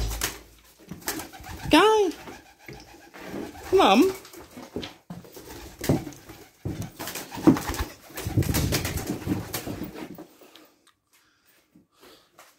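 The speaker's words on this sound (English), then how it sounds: "And a pigeon." A pigeon inside an abandoned Oldham pub gives a few soft, rising coos with scuffling and wing movement close by, while someone talks over it before the room falls quiet.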